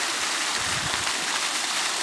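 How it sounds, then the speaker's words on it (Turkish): Mountain stream fed by melting snow on a high summer pasture, a steady broadband rush of flowing water, close and continuous. "Bakın şırıl şırıl su akıyor."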